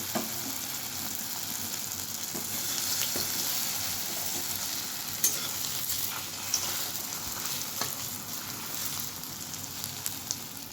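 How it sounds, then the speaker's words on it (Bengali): Vegetables fry in hot white oil in a wok, giving a steady, moderately faint sizzle with scattered small pops and crackles running unbroken throughout. "কড়াইতে তেল গরম হয়ে গেছে এরপর আমরা একে একে এগুলো ভেজে নেব"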